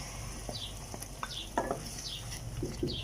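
Yogurt sizzling as it goes into hot ghee with spices for a kofta curry, soft steady frying with a few stirring clicks and spatters over a constant background hiss.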